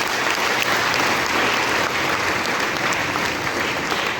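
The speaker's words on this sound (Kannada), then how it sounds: "ಹೊಡಿರಿ ಚಪ್ಪಾಳೆ." Students in a college hall at a first-year event in Shivamogga give loud, sustained applause, a thick, unbroken wash of many hands clapping at once.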